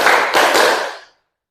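Students in a class clap in unison on a counted cue, with three quick bursts of hand claps in a row that fade out within about a second, close and fairly loud.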